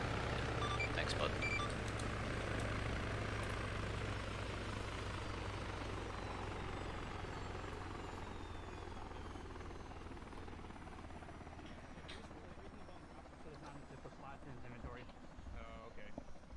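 Helicopter engines spooling down after a military flight, a loud, close turbine whine and rotor rumble that slowly fades and drops in pitch across the clip, with voices talking over it.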